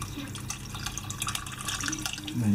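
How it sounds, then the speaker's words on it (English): Water poured from a tap into a pan of beef hash to make gravy, a steady splashing trickle with faint drips, close and moderately quiet, no speech. "Some extra water in there for the gravy."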